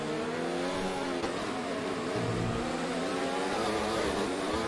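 Race car engine in a Singapore GP sim race, droning at high revs with a stuttering rev glitch, a steady dense roar with shifting harmonic tones throughout.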